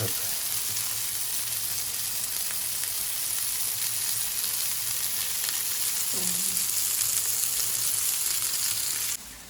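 Homemade burger patties frying in a pan, a steady bright sizzle and crackle of hot fat running throughout, close and even, with a brief clink of a utensil near the end.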